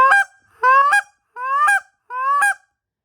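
A goose-style honk and cluck repeated four times in a steady rhythm, loud and close. The calls are either a person imitating the goose note by voice or a goose call blown by hand.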